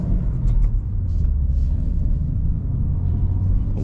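A manual BMW M2 on a morning cruise gives a low, rumbling engine and road drone from inside the cabin, steady and loud, with slight surges but no clear shifts.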